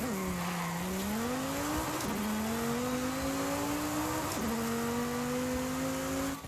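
A tuned front-wheel-drive A-class car in Forza Horizon launches hard, its engine note climbing steadily through two gear shifts while tires squeal, loud and continuous for the whole stretch with no talking.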